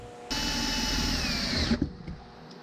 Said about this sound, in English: All right, all the holes are drilled.